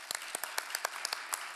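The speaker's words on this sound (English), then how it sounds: "I just wanted to give big applause and thanks to everybody who participated in this session" Audience applause at the close of a conference wrap-up session, a short burst of scattered, fairly sparse claps heard at a moderate distance in a hall.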